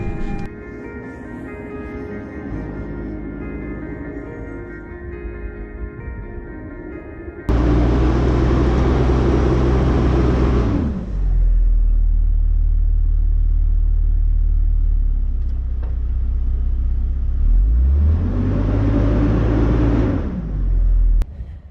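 A 2024 Toyota Land Cruiser's engine revs hard in two loud, rising surges while the vehicle sits stuck in deep sand off-road, with a steady idling rumble between and before the bursts.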